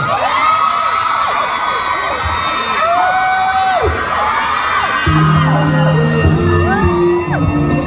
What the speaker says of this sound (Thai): ขอเสียงกรี๊ดหน่อยได้ไหมครับผม